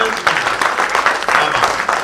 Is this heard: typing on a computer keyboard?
no